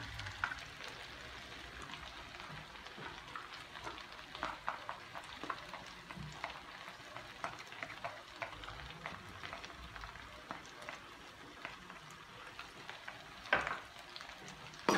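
Carrots stirred into half-cooked potatoes frying in a pan, quiet scraping and stirring with soft sizzling, irregular clicks of a spoon or spatula against the pan, fairly faint and close.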